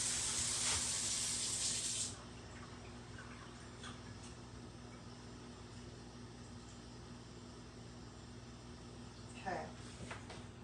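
Warm water gushes loudly from a kitchen tap for about two seconds while measuring for a meatball recipe, then cuts off, leaving a low room hum and a few faint knocks.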